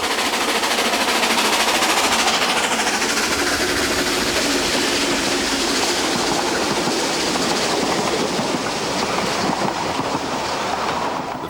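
Steam train on the narrow-gauge Festiniog Railway, a steady loud rumble of wheels and running gear with hissing noise, continuous and close throughout.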